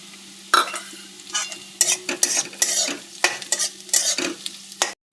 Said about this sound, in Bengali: পেঁয়াজ ভাজা হয়ে গেছে, দিয়ে দেবো সেদ্ধ করা আলু